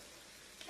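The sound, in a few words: breakfast batter frying in hot oil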